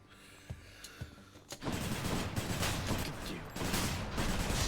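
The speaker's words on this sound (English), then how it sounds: "Now it's a 3-shot burst that never reloads." Gun in the video game Hades firing three-shot bursts: a quiet start with a few isolated shots, then a dense, loud barrage of rapid repeated gunfire that runs almost without a break.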